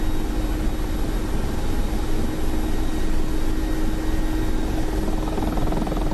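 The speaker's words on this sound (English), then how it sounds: "I know that the helicopter's unhappy and stressed when they're happening" Mi-24P Hind attack helicopter in a DCS flight simulation, its rotor and turbine drone steady and loud throughout, with a strained, labouring hum under stress and no voices.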